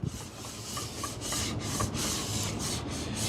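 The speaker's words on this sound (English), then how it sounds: "you can take a scraper and scrape that top layer off." A plexiglass scraper pulled across hardened wax on a ski, a steady close rasping scrape in repeated strokes with no pauses.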